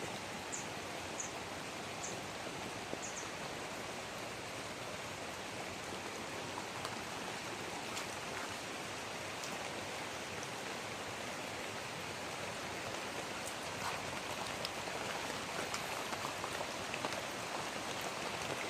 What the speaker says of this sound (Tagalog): Malakas na yung tubig.